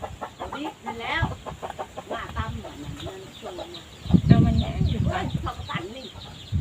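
Chickens cluck and squawk close by in a farmyard, the calls broken up and overlapping with people talking over them, growing louder and busier toward the end.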